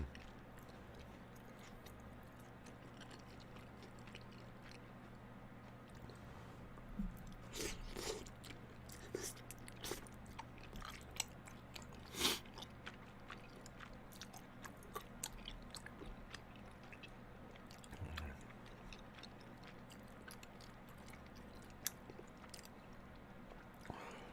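Close, soft chewing and biting while eating bunmoja and flat tteokbokki, with moist, squishy mastication and occasional small crunchy clicks over a quiet background.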